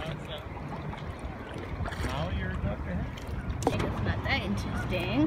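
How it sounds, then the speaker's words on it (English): Kayak running down river rapids in spring, rushing water and paddle splashes heard close over steady flow while a person talks excitedly throughout. "Oh, we're going down the rapids."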